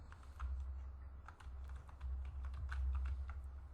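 Quiet, steady tapping on a computer keyboard as a networking command is entered in a Packet Tracer lab, a continuous run of soft keystrokes over a low hum.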